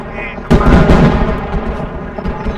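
Gunfire in the ARMA 3 military video game, a sudden loud booming shot followed by a rumbling, echoing tail, with faint background sound before it.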